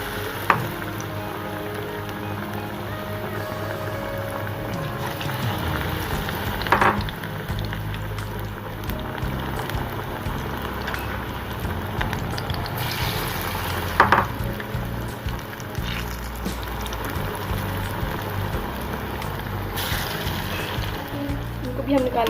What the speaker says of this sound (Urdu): اسی طرح ہی ہم نے باقی سارے ایسے فرائی کرنے ہیں۔